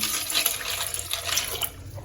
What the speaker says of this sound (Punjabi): ਹੁਣ ਇਹਨਾਂ ਦੇ ਵਿੱਚ ਪਾਣੀ ਪਾ ਦਾਂਗੇ ਬਰਾਬਰ ਮਾਤਰਾ ਦੇ ਵਿੱਚ